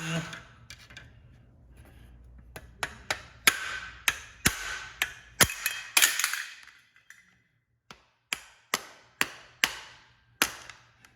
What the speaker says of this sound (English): I'm not hitting the bottom of the valve, I'm hitting the bottom of the retainer on it